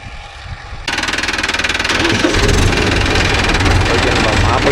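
A Mahindra tractor, an Arjun Novo 605 DI or Yuvo 585 set up for rotavator work, starts or revs up after a quieter moment, then holds a loud, close, steady diesel throb with rapid rhythmic knocking.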